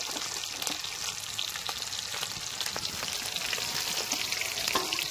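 Fish frying in a pan gives a steady, bright sizzle of hot oil, close and continuous, with occasional crackles and pops and no talking.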